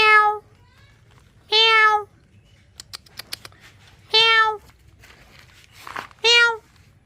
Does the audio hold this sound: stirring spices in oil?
no